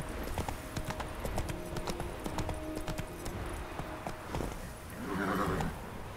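Horse hooves clip-clop in a steady walking rhythm in The Witcher 3: Wild Hunt, close and clear, followed by a short whinny from the horse near the end.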